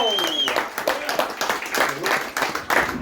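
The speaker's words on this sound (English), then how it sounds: "Then start clapping your hands. Start cheering." A comedy club audience claps and cheers to welcome a comedian, with scattered hand claps and whoops under a host's amplified voice.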